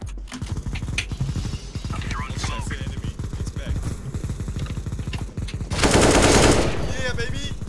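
Rapid, dense bursts of gunfire in a video game, a fast rattling stream of shots close up with a sharp loud blast near the end, mixed with mechanical clicks and voices talking over it.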